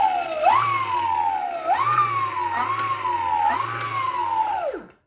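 An electric motorcycle motor run by a VESC controller whines at full throttle, a loud, tonal electric whine that rises and dips in repeated waves, then winds down sharply at the end.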